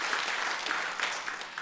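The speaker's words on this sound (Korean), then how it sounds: "우리 한번 박수로 우리 한번 환영하도록 하겠습니다" A congregation claps steadily to welcome newcomers during a Korean Sunday church service at Hanbit Church, a dense, even patter of many hands, moderately loud throughout with no talking.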